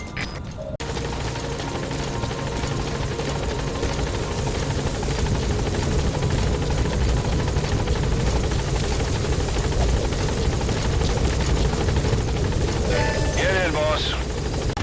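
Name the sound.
helicopter arriving in Metal Gear Solid V video game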